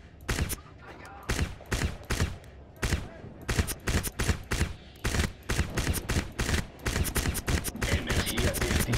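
Rapid bursts of gunfire from the video game Crysis, dense repeated shots in quick volleys throughout, loud and close with almost no pause between rounds.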